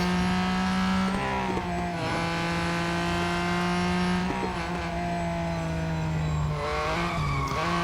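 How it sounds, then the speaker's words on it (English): A Ford GT race car in the Real Racing 3 game, its engine holding a steady tonal drone while the tires squeal and skid through several pitch-bending slides, loud and close throughout. "Not if you skid like that"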